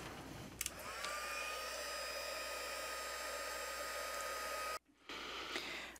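A heat tool blows a steady, loud whooshing hiss while setting embossing powder on a card, running almost continuously and cutting out briefly near the end before starting again.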